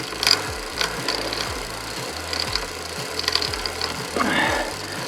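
Toothbrush scrubbing a bicycle during washing, rapid rhythmic bristly strokes repeating steadily and close, with a brief louder rubbing pass near the end.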